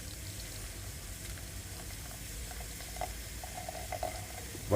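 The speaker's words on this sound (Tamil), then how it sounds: "இப்போ நம்ம இதை வடிகட்டிக்கலாம்." Boiled jaggery syrup is poured through a strainer, a steady close liquid pouring and trickling sound lasting about five seconds with faint splashes and no voices.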